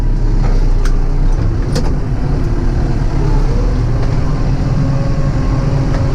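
A loud, steady farm tractor engine rumbles nearby, a low continuous drone with a faint rattle and no talking.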